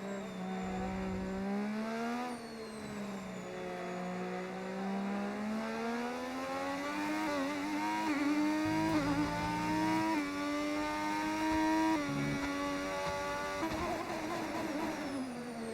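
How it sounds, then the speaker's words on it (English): Racing car engines in the F1 25 video game, loud revving tones rising and falling through gear changes on a first lap, with tire noise and no speech. "God, these engines sound good, man."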